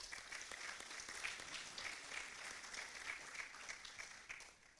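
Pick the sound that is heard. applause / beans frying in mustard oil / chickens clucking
applause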